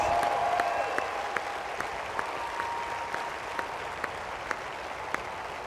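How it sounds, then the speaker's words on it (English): An audience at an ACLU town hall in Miami applauds steadily at a moderate distance, a dense wash of clapping with a few sharper individual claps standing out. "a round of applause."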